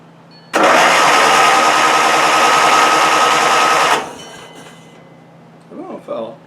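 A rebuilt Craftsman 19.5 HP lawnmower engine cranks loudly and steadily for about three seconds with its starter, then stops, leaving a faint hum before someone speaks briefly.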